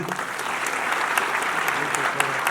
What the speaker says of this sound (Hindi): उनके लिए एक बार और जोरदार ताली।